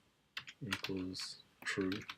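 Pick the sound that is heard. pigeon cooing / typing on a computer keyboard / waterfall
typing on a computer keyboard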